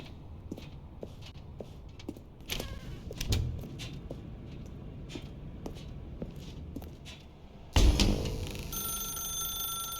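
A telephone ringing in The Stanley Parable, an electronic tone that starts near the end and repeats steadily after a louder click, following quiet room ambience with faint scattered taps.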